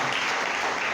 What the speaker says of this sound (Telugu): ఒకసారి గట్టిగా చప్పట్లు కొడుతూ